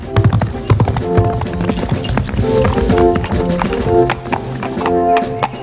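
Rhythmic hoofbeats clip-clop steadily along with a musical backing, like a horse trotting over hard ground, loud and close.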